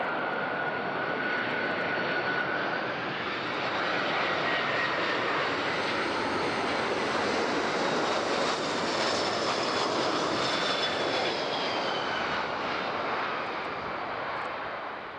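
Airplane landing on runway 14 at Zurich airport, a loud sustained engine roar rising and falling as the aircraft passes close by, with no talk over it.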